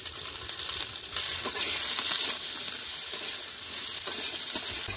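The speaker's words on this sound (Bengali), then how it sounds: "ঢেঁড়স আলুটা কিন্তু মাছের ডিম দিয়ে ভাজা হয়ে গেছে" Okra and potato frying together with fish roe in a Bengali home kitchen: a steady, loud, close hiss of sizzling oil that runs continuously with no voices.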